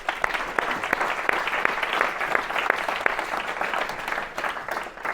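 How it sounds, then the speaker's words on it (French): A conference audience of about ninety people claps together in a steady, dense round of applause that fills the room, close and fairly loud, with sharp individual claps standing out. "je pense qu'on peut tous s'applaudir déjà."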